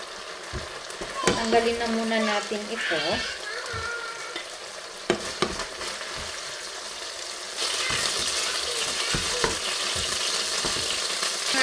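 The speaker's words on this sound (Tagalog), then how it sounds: "i-prito dito yung ating onion and garlic." Onion and garlic fry in a pan of hot oil with a steady sizzle and some stirring clatter. Someone speaks briefly over the cooking noise.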